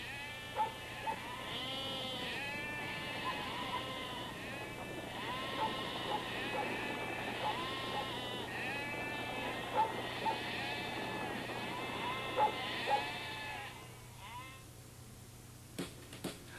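A flock of a special sheep breed on the Lüneburg Heath moorland, bleating repeatedly at varied pitches, several animals calling over one another against a steady outdoor background, moderately near and without talk.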